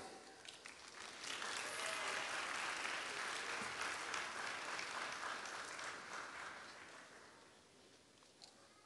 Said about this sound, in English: Let's give a round of applause for all the new doctors in the house.